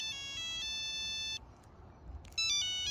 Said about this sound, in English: then you heard a phone ring in the room